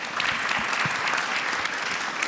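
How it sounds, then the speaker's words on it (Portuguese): Warm, dense applause from a seated audience at a self-esteem workshop, continuous and even throughout with scattered individual claps standing out, fairly close and without voices on top. "vamos dar uma salva de palmas para eles"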